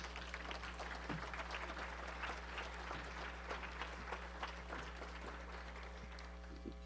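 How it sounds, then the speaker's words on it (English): A roomful of people applauds a guest at a school meeting, the clapping faint and distant over a steady low electrical hum, with scattered sharper claps standing out. "Let's give him a big round of applause."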